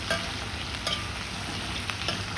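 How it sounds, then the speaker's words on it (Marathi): Cumin, bay leaf and onion sizzle in hot oil in a kadhai for veg biryani, a steady close frying hiss with a few soft spoon scrapes and taps as the onion is stirred. No one speaks. "जिरं आणि कांदा आता कांदा आपल्याला छान असा परतवून घ्यायचा आहे"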